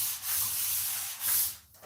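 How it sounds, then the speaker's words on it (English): Screw holes being sanded: quick, close abrasive rubbing strokes in two or three broad hissing swipes, with no talk. "All the screw holes are sanded in a few minutes."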